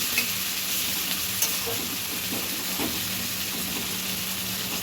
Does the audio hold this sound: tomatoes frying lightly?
yes